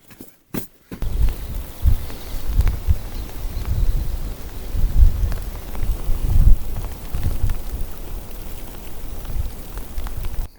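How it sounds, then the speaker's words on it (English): Heavy rain beats down on a campsite beneath Australia's biggest river cliffs, a loud, uneven drumming of drops on gear and canvas with dull low thumps, after a couple of sharp knocks at the start. "The rain was just coming in too hard and getting all my stuff wet"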